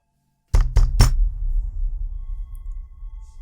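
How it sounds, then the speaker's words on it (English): Three loud, heavy knocks on a door in quick succession, close and booming, each thud ringing out into a lingering low resonance before fading. "I raise my fist like I want to knock on the door."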